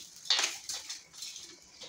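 A spoon scrapes and clinks against a metal pan while tamarind rice (pulihora) is stirred and mixed, giving a few quiet, irregular metallic scrapes and taps close by.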